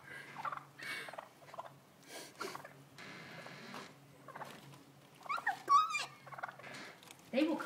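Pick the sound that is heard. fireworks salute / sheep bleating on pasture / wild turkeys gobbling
wild turkeys gobbling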